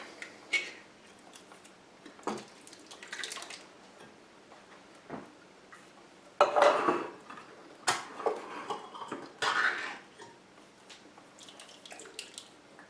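Canned tomatoes going into a pot of chicken vegetable soup, soft splashing plops and drips, a few louder wet dumps among quieter ticks and clinks, fairly faint and close.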